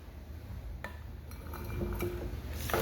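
A utensil stirring a drink in a glass gives a few sharp clinks against the glass, spaced irregularly over low room noise, with a louder clatter at the end.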